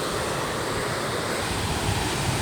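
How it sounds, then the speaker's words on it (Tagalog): Strong sea surf rolls and crashes onto a white sand island shore in a continuous loud roar, with wind buffeting the microphone and no speech. "Ang galing dagat, ang lakas ng alon."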